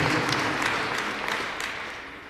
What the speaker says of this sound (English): Another round of applause for Commission 1.